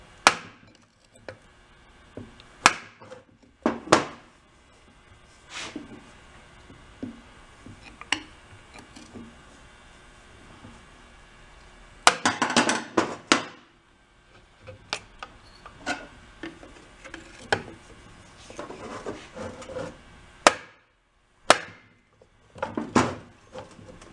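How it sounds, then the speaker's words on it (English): A nylon hammer taps on an antique Briggs & Stratton engine on a workbench, giving a series of sharp knocks at irregular intervals, some single and some in quick clusters, with quiet gaps between them. "You give it a nylon hammer."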